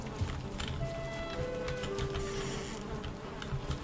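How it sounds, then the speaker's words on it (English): Bees buzz in the Valheim video game, a steady droning hum with wavering tonal whines layered over background game ambience. "Bees are happy."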